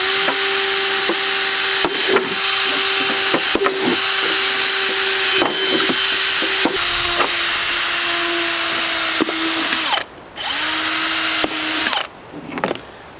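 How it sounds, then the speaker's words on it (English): A power drill bores holes into a plastic milk jug and an Ocean Spray cranberry container in a series of whining bursts, with short pauses, changes in pitch and brief stops between holes, loud and close. "let's go ahead and get some holes drilled in here"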